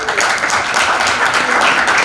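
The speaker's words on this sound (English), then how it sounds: "Give applause, everyone." Brief burst of audience applause at a youth festival business competition, loud, dense clapping close by for a couple of seconds.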